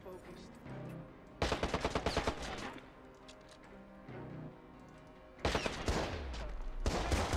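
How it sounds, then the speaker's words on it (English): Rapid pistol gunfire in the video game Watch Dogs, two loud bursts of closely spaced shots, each volley a string of sharp cracks, with quieter game ambience between. "I gotta switch back to the pistol."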